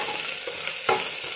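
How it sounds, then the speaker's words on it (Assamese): Spices with red chilli powder sizzle and fry steadily in a pan for egg biryani, a close, continuous hiss broken by a couple of sharp stirring scrapes, with no talking. "মছলাখিনি ধুনীয়াকৈ ইয়াত ভাজি থাকিব"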